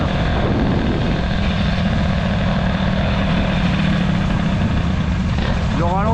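A Peugeot 103 moped with an air-cooled Airsal 65 cylinder runs close by, its engine giving a loud, steady, buzzing drone with no pauses throughout.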